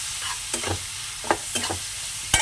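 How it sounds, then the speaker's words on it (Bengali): Turmeric powder, salt and chili paste being stirred together in a pan, a few distinct scraping strokes of a spoon against the pan over a faint background sizzle, with no talking. "হলুদ গুঁড়ো নুন আর বাটা লঙ্কাটা একটু মিশিয়ে নিই"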